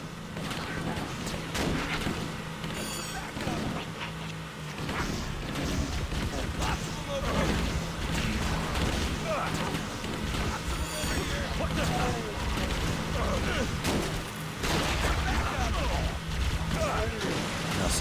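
Automatic rifle fire rattles through a Halo level amid dense battle noise, with continuous bursts and impacts running under frequent talking.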